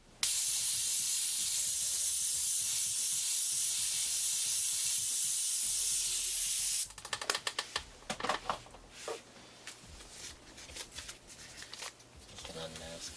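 A loud, steady airbrush hiss sprays white paint for several seconds, then cuts off into clattering handling noises and rustling.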